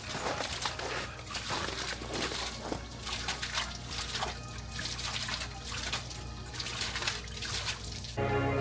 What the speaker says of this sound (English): water fountain